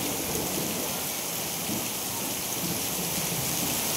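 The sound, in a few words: thunder during rainstorm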